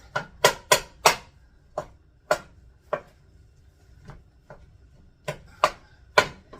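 Ground hamburger being chopped up with a utensil in the bottom of a cooking pot for taco soup, a series of sharp, separate knocks and scrapes in irregular bursts, close and fairly loud with quiet gaps between.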